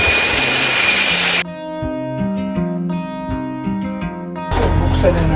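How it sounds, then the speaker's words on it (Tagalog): Electric blower roaring steadily while clearing heavy dirt off a table electric fan during repair, a loud continuous whine with shifting tones and a brief lull in the middle. "So gamitan natin ng blower para mawala lahat yan."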